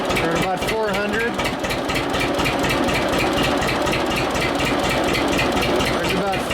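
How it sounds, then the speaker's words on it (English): An engine runs under throttle speed control as its revs climb from about 400, giving a loud, fast, regular chugging pulse with someone speaking over it. "The engine's starting to speed up now."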